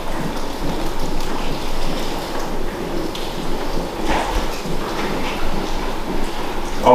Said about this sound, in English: yeah, it's raining outside.